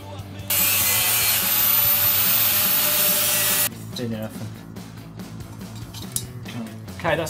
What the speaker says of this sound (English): we're going to get our toilet roll holder and cut it down to 20 centimetres